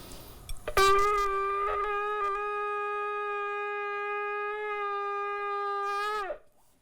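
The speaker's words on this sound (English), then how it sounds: "I'll finish off with a little shofar blast." A single long shofar blast: a brief rough attack, then a steady, bright, buzzing horn tone held for about five seconds before cutting off.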